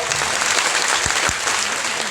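Audience applause at a Malayalam-language talk or presentation event, a steady dense patter of many hands clapping throughout, loud and close, with no speech over it.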